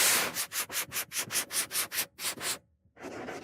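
Rhythmic back-and-forth rasp of a homemade edge sander with a 9-foot belt against wood, about ten strokes in steady pulses, then a brief pause before it resumes.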